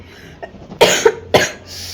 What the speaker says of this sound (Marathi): काय करावा या खोकल्याला